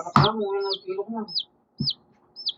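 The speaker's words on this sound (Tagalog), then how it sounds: "Anong manok? Chicken to? Sisiw." High, rising chirps from a chick repeat four or five times at a steady pace, close by, while a person talks underneath.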